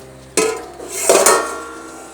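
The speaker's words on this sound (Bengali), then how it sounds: "আমি এখন ঢাকনাগুলো দিয়ে দিচ্ছি। খুব সাবধানে ঢাকনাগুলো দিতে হবে, কারণ গরম তো।" Metal lids are set onto hot cake containers on a low gas flame, giving two clanks about three-quarters of a second apart, the second a clattering double knock, close and fairly loud with no talking.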